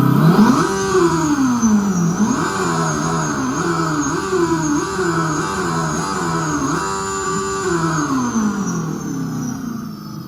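An electric motorcycle revs repeatedly, its whining tone climbing and dropping in quick stepped sweeps, close and steady, with a high synthetic hum running above the motor pitch.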